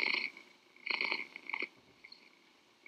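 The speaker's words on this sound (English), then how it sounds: "Oh, it's my cat." A house cat purring close by, a soft rumbling sound in a few short bursts with quiet gaps between them, and no talking.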